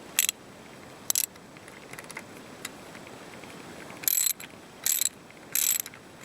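A ratchet works on the intake bolts of a 1948 Ford 337 flathead V8, with short bursts of crisp clicking ratcheting close by, separated by quiet pauses, and a few faint taps in between.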